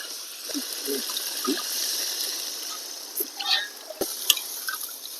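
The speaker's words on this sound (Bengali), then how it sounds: "এবারে ঝোল দিয়ে দেবো" Broth is poured into a simmering pot of country chicken curry, making soft splashing and dripping with a few wet plops and clicks over a faint, steady background hiss. It is fairly quiet, with no voices.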